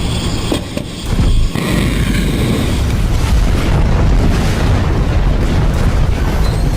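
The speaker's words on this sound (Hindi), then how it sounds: "तेल अवीव का आसमान भी मिसाइलों के धमाके से गूंजने लगा।" Ballistic missile explosions over Tel Aviv during a Houthi missile attack on Israel, heard as a loud, continuous roaring rumble with a heavy boom near the start, sustained and dense throughout, with no talk.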